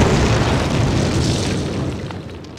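Explosives blowing up a cinder block wall in the 2003 video game Call of Duty, a loud, deep boom that rumbles and slowly fades over a couple of seconds.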